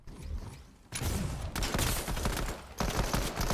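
Air strike in Fortnite: after a quieter opening, a dense barrage of blasts and rapid gunfire-like bursts erupts, loud and sustained in several waves.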